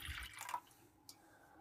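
Milk poured from a glass into a saucepan, a short wet splash and trickle that fades within about half a second, followed by a faint clink.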